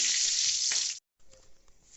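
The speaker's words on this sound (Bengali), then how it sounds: "শুকনো লঙ্কা দু একটা ছেড়ে দিলাম দু একটা এলাচ তেজপাতা লবঙ্গ দিয়ে একটু নেড়ে ছেড়ে নিচ্ছি" Dried red chillies, cardamom, bay leaf, cloves and cumin seeds hit hot oil with a loud, close, steady sizzle that cuts off abruptly, then returns as a quieter crackle while the spices are stirred.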